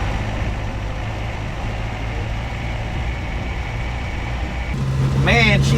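Datsun 520 pickup engine droning steadily as the truck rolls along at low speed, a close continuous hum that swells near the end with a brief higher whine over it.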